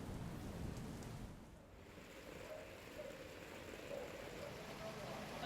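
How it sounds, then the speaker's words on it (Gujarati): Rain falling in the Katargam area of Surat, where streets are waterlogged, a continuous soft hiss of rainfall with slight swells, fairly faint and steady throughout. "સુરતમાં વરસાદ જોવા મળી રહ્યો છે"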